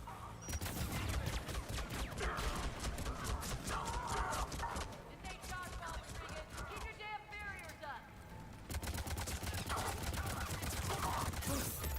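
Sustained rapid gunfire in Mass Effect, dense trains of shots close up with a short lull midway, while a voice talks underneath.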